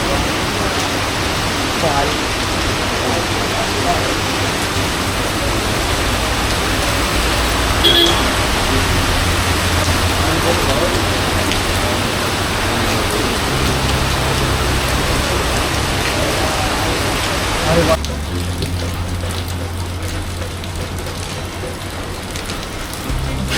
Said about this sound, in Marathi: आज जेवढा काय पाऊस पडेल, काही हालचाली असतील पावसाच्या वातावरणाच्या, सगळं दाखवण्याचा प्रयत्न करणार